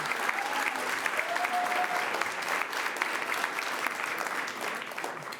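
Crowd applause for a county sewer crew at a government water infrastructure announcement, steady clapping from many hands for several seconds, fairly distant with a faint voice near the middle.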